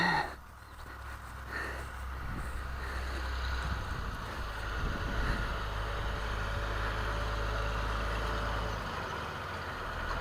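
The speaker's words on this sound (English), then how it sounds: "83 years of 6-cylinder power between the tractor on the trailer and the tractor pulling it." A Hart Parr 6-cylinder tractor engine runs at a steady idle on a trailer after a 4th of July parade, a low continuous rumble that holds steady with other vehicle noise around it.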